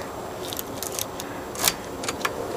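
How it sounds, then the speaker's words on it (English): Keys jangle in a pocket while someone walks home at night after a lighting class, a few light metallic jingles over steady outdoor background noise, with one louder rattle midway. "Did I put my keys? Oh, they're in my pocket."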